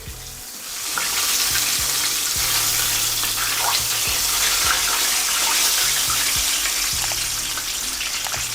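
Chicken deep-frying in hot oil for crispy fried chicken, a loud, steady, close sizzle with dense crackling and bubbling that continues without a break, and no one talking.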